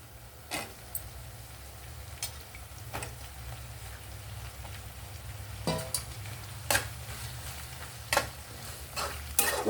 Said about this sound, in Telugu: ఇప్పుడు వంకాయ ముక్కలు వేస్తున్నానండి.